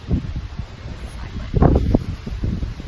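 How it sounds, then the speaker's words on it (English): Gusty wind buffets the microphone in uneven bursts, with a heavier blast in the middle, rustling and rumbling throughout. "so windy."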